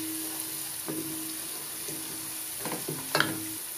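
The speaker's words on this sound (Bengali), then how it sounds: "আদা রসুনটা একটু ভাইজা লমু যাতে কাঁচা গন্ধটা চলে যায়।" Ginger and garlic frying in a pan for a North Bengal potato dish, a steady close sizzle broken by a few stirring scrapes.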